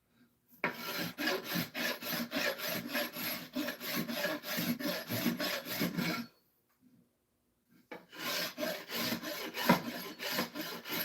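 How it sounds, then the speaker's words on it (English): Steady rhythmic rasping of a Frary rasp across wood, loud and close, running in quick repeated strokes for about five seconds, pausing briefly, then resuming. "that's the only problem I have with the Frary rasp is that the fine side can get clogged"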